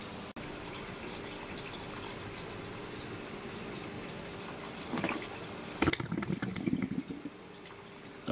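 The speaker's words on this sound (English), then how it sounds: "The last little bit of water drains out" Water drains quietly from a DIY hydroponic ebb and flow siphon, trickling and dripping softly, then gurgling and sputtering in short louder bursts as it draws air near the end.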